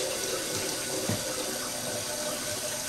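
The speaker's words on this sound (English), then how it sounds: "You can hear the water. That's me for putting that water in the pot there." Tap water pours steadily into a cooking pot, a constant close splashing hiss that holds without a break from start to finish.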